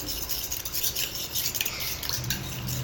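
A spoon scrapes and clinks against a container while stirring a thick cocoa powder and honey mixture, with soft, continuous, uneven scraping up close.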